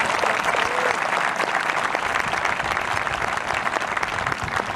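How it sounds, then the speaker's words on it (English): Sustained applause fills a 2021 Calhoun high school graduation ceremony as a crowd claps evenly and loudly for a retiring staff member, a continuous wash of hands with no speech over it. "Please give her a round of applause."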